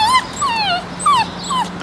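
A dog whimpers in a series of high, sliding whines, four or five drawn-out cries rising and falling, close and fairly loud with no talk.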